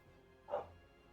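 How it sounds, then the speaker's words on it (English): A single short dog bark, faint and distant, rising briefly out of a quiet low background hum. "Do I hear a dog?"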